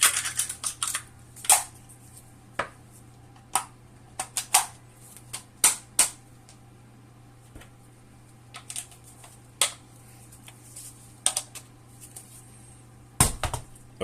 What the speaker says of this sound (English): let's go ahead and drop in the bolt